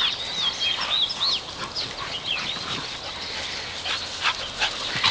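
Dogs bark and whimper outdoors, with high yelps and whines over a busy background, fairly close and continuous across the stretch with no speech.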